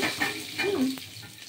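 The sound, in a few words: cumin and bay leaves frying in oil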